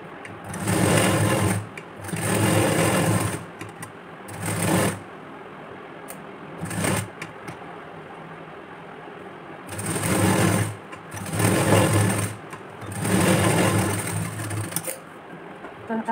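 A sewing machine stitches the katori piece of a blouse in loud, rapid bursts of whirring needle chatter, separated by short pauses, with the bursts lasting from under one second to about two seconds.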